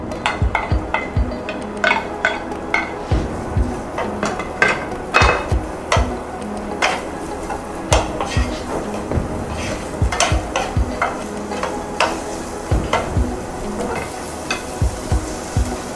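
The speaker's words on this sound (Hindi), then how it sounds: "तकरीबन 8 टेबलस्पून ऑयल मैंने लिया है और इसमें ये मैं प्याज डाल रही हूँ।" Onions sizzle in about eight tablespoons of hot oil in a pan, a steady close frying hiss broken by frequent sharp clinks and scrapes of a utensil against the pan, with no talking.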